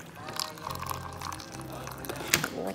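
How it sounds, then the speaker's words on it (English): Hot water pours into a cup onto an English afternoon tea bag, a steady trickling fill lasting a few seconds, with voices and small clinks alongside. "then some hot water in it."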